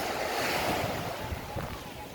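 Soft, steady wash of gentle surf rolling in, with a low rumble and some wind buffeting the microphone.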